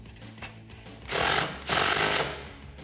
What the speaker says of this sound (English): using your 16mm wrench and 16mm socket, tighten down the bolt holding your main bracket to your support bracket